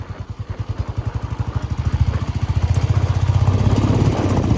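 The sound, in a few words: motorcycle engine on mountain road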